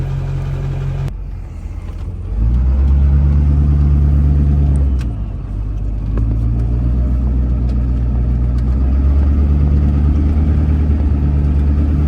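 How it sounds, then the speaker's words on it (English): An LLY Duramax diesel pickup truck is put in gear and pulls, its deep loud engine drone shifting pitch as it works and eases off, close and with no talk. "Let me put it in gear and give it a little yank"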